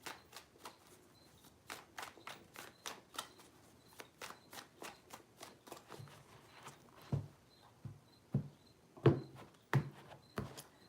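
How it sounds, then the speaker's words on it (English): Tarot cards being shuffled by hand, soft papery riffles and taps in an irregular patter, quiet and close, with no voice. "3 shuffles."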